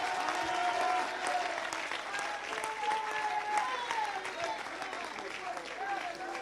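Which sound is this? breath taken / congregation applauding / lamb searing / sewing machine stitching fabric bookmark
congregation applauding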